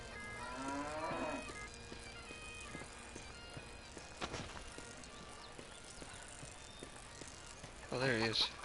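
In the video game The Bard's Tale, cows moo loudly nearby, one long low moo near the start and another near the end, amid game sounds including scattered clip-clop footsteps and other effects.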